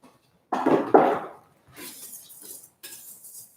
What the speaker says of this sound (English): I'm using a whisk and not a spatula as well, because every time I stir that and I let that mix fall through